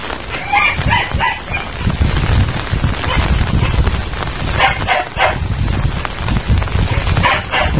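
Pet dogs barking in short bursts at a rural home among chickens, the barks close and loud amid rooster-like calls and clucking, repeating irregularly throughout.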